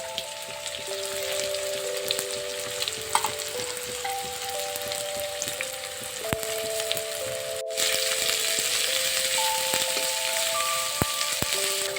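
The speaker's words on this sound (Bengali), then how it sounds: "এটা আমার হালকা ভাজা হয়ে এসছে" Steady sizzling of onion, carrot and beans frying in a pan for chow mein, a continuous crackling hiss with a few soft clinks and faint tonal sounds in the background.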